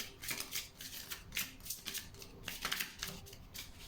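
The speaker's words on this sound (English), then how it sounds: "Feel free to skip ahead if you don't like the shuffling" Shamanic Healing oracle cards are shuffled by hand, a run of quick papery riffles and slides in uneven bursts, close and quiet with no talk.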